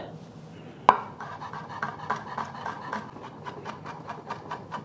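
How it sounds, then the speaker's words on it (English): Knife chopping a crushed garlic clove on a cutting board for mapo tofu: one sharp whack, then a steady run of quick, fairly soft, evenly spaced chops, with no talking. "I'm also gonna chop up 1 clove of garlic"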